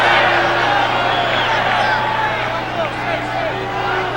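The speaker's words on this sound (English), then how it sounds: "the crowd not happy" An unhappy crowd at a 1990 Syracuse vs Brown men's lacrosse quarterfinal gives off a loud, sustained wash of jeering and murmuring with scattered shouts, and voices can be heard within it.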